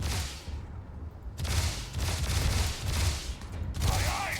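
Video game gunfire, rapid bursts of loud shots in close, dense volleys with brief gaps between them, and faint game sounds behind.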